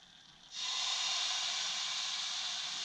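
Vegan pancake batter hits a hot pan and bursts into a loud, steady hiss that starts abruptly after a short quiet moment and holds close and even until the end.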